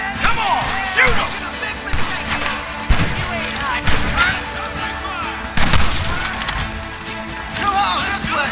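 Gunfire in the video game Red Dead Redemption, sharp repeated shots and blasts at an irregular pace, close and loud, mixed with shouting voices and battle commotion.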